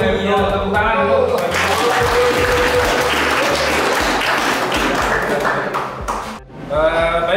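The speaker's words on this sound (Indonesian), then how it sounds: "Ayo tepuk tangan dulu." Classroom students applaud together, a dense sustained clapping that fills the room for several seconds, with voices mixed in and a brief dip near the end before noise resumes.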